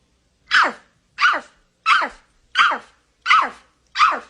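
A person imitates a big dog barking, six evenly spaced gruff woofs in a steady rhythm, close and loud with silence between each bark.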